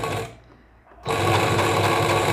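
A sewing machine stitches fabric for a dress with Japanese-style sleeves, sewing a backstitch. The motor hums loudly and closely, stops for a brief moment, then runs again at a steady, continuous whir.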